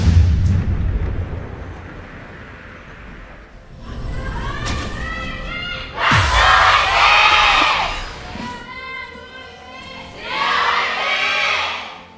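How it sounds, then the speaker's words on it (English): A packed esports arena crowd at a KeSPA Cup League of Legends match roars and cheers in loud swelling waves, near and overwhelming, rising and falling several times with screams. "I was worried that if the JINAIR cheer was that much louder this time around, we'd be having some hearing issues"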